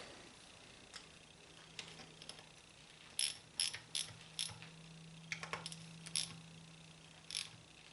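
A Torx ratchet runs bolts down during reassembly of a 42RH / A500 transmission, giving quiet, irregular bursts of clicking pawl ratchets spread across a faint background hum. No one speaks.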